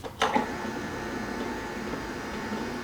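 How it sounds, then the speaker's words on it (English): A Nama J2 juicer motor runs with a low, steady whirring hum and faint hiss, quiet and even throughout after a couple of small clicks at the start. "So that's the sound of the Nama."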